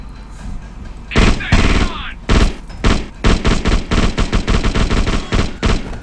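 Gunfire in the video game The Suffering: loud, close, short bursts and rapid single shots fire in an irregular rhythm, with brief pauses between them.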